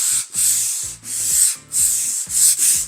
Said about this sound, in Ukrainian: Бач, як шершить, чуєш наскільки